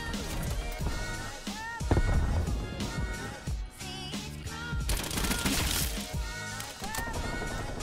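SMG fire from an OTs 9 in Call of Duty Cold War, dense rapid bursts of gunshots layered with game effects and background music, loud and close, with near-continuous firing throughout.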